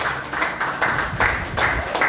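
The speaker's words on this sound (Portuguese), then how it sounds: "Aplauda o Senhor essa noite." A church congregation at a samba worship service claps in rhythmic bursts, a dense, close wash of hand claps rising and falling in waves throughout.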